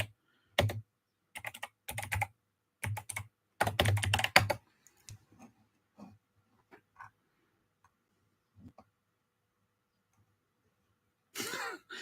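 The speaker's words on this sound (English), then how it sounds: "now I've got a couple of drafts that I've got to quickly type up" Quick bursts of typing on a computer keyboard come in clustered runs of keystrokes, close and fairly clear, with long quiet gaps between and a faint noise near the end.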